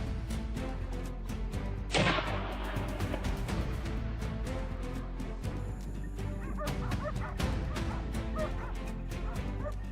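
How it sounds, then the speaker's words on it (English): Hunting dogs on a wild boar hunt bark and whimper in quick, uneven yips throughout, with one sharp loud burst early and a steady busy background. "The dogs don't just track, they speak, in body language, in howls, in silence."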